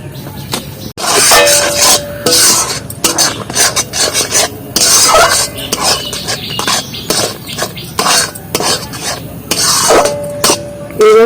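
Palm fruit pulp cooked with sugar in a pan for taler bora, stirred with loud rhythmic rasping scrapes of the spoon against the pan, repeated strokes with brief pauses between them.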